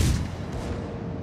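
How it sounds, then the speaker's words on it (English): Naval guns firing in a warship game featuring the Cleveland, a deep booming blast at the start trailing into a low rumbling roar. "Reacher is bringing his nose to starboard, so he's probably about to fire."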